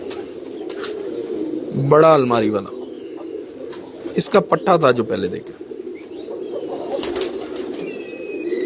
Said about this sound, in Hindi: नहीं जी, ये मेन कबूतर असल जो है ना वो ये है